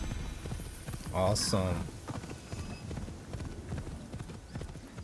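Rhythmic clip-clop of horse hooves trotting steadily in Assassin's Creed Shadows, with a brief burst of a voice speaking over it partway through.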